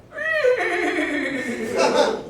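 A small pinto horse lets out a loud, close whinny, a rising then wavering neigh lasting about two seconds that fills the clip.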